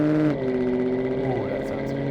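A BMW M3 engine revs through its exhaust, heard up close as a steady droning tone with a couple of rising and falling pitch sweeps, loud and continuous, with no talking over it.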